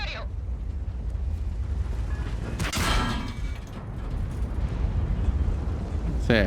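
Heavy cannon impacts from an enemy Phase One tank strike the player's tank in World of Tanks, with a loud broadband crack near 2.8 seconds over continuous engine rumble and a sharper hit at the end.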